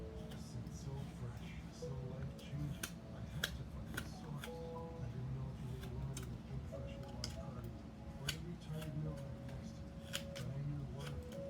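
A carving knife works into a piece of wood, making repeated short crisp slicing clicks over a steady low background hum, close and soft, with faint murmuring voices underneath.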